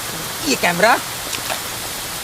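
Rain falls as a steady soft hiss in the background while someone speaks briefly over it, the rain continuing quietly after he stops.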